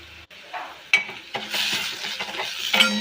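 Onion with ginger-garlic paste, turmeric, coriander powder, chili powder and garam masala is stirred in a hot pan for a mushroom bhaji, giving soft sizzling with scraping and clinking of the spoon against the pan, up close.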